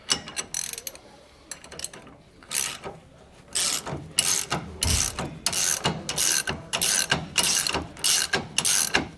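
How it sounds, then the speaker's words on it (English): Hand ratchet snugging 1-inch end link bolts on a rear anti-sway bar of a 2012 Tiffin Allegro Open Road motorhome, sparse clicks at first, then rapid regular bursts of ratcheting, close and clear. "we're gonna go and snug the end link bolts, both top and bottom, on both sides"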